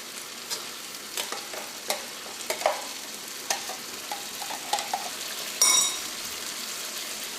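Ground coconut paste is fried into a tomato curry in a pan, giving a soft, steady sizzle. Scattered spoon clinks and stirring taps break through it, with a brief louder burst near the end. No voices.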